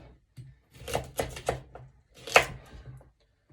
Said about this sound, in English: chop all the ends off